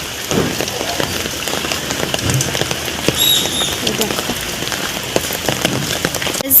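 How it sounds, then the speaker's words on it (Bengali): Heavy, continuous rain falling on a muddy outdoor surface, a dense steady patter with scattered louder drops close by, and a brief voice partway through. "এত পরিমাণে বৃষ্টি দিচ্ছে, কন্টিনিউ দিচ্ছে"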